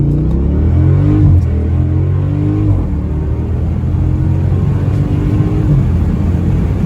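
A tiny drivable Ford Ranger truck pulls away hard off the line, its engine note climbing in a loud whine that settles into a steady, close rumble, with no one speaking.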